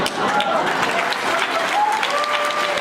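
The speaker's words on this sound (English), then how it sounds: "Let's give all of our speakers a round of applause." Audience applause for speakers at a Bay Area writers event, a dense sustained clapping from a crowd filling the whole stretch, loud and close.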